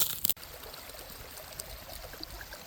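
A small woodland creek in Rhode Island trickles and gurgles quietly and continuously, after a brief loud knock at the start.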